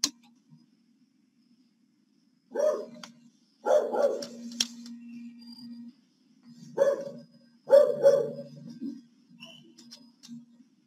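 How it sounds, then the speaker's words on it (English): A dog barks somewhere near a lecture room in several separate bursts, loud and sharp against an otherwise quiet background with a faint steady hum between them. "So a dog is barking over here."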